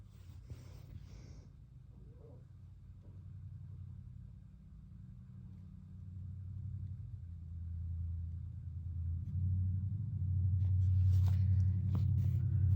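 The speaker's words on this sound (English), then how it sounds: "loud muffler, can you hear that?" Car with a loud muffler, a deep low rumble passing by outdoors that swells steadily and is loudest near the end, with no talk.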